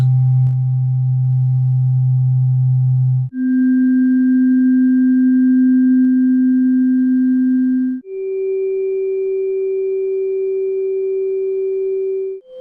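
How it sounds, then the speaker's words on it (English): Tuning forks ring out as pure, sustained steady tones, each held for several seconds before stepping up in pitch to the next, clear and alone with no talking. "So here are the first 8 harmonics."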